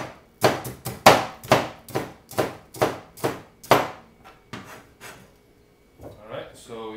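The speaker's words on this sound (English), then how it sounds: "I'll chop them to bits, slices, depending how big you want it" A knife slices bitter melon on a cutting board in about a dozen sharp, close chops in a steady rhythm, slowing and fading toward the end before some light handling noise.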